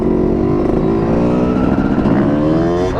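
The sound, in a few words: Yamaha YZ250 two-stroke dirt bike engine revving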